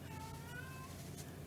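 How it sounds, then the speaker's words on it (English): A pet cat meows for attention indoors, a drawn-out, wavering cry at moderate loudness over a steady background hum, with no talking. "I hear our cat crying"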